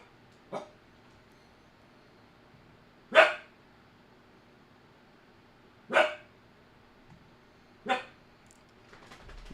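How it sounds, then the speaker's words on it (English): A dog barks four times, single sharp barks spaced a few seconds apart against a quiet room. "Actually, what are we barking at"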